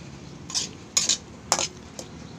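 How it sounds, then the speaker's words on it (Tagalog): Vegetables being sautéed in a pan, heard as a low background sizzle broken by four or five short scraping, clinking strokes of a utensil stirring against the pan. "Ito, nagigisa na tayo."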